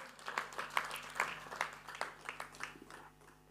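Scattered, faint hand clapping from a banquet audience at an elders' gathering, a steady patter of claps heard from a distance in a quiet room.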